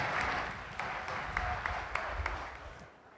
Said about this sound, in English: drew Rowan, the state member for Smithfield, who deserves a very big round of applause.